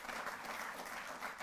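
A hall audience claps for Asian Games 2022 medal winners at a felicitation ceremony, a continuous, even wash of applause from many hands throughout, with no voices over it.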